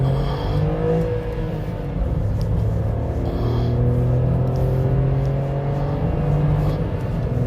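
A small Skoda Citigo city car accelerates along a B road, its engine note climbing steadily in pitch through a continuous, fairly loud drone with a low rumble beneath, heard without talk.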